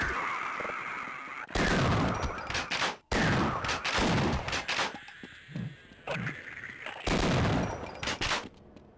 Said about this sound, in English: I should probably shotgun them